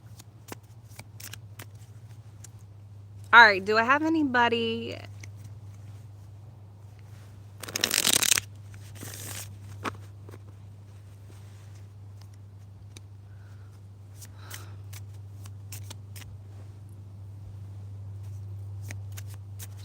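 A deck of playing cards being shuffled indoors, a brisk riffling burst followed later by a second short flurry, over a steady low hum, with a few quiet spoken words.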